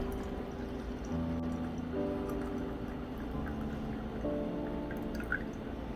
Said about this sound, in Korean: 한번 정면에서 부어보겠습니다